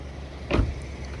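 Rolls-Royce Wraith soft-close door pulling shut, a single brief muffled thud with a short whirring draw near the middle, close by against low ambient hiss.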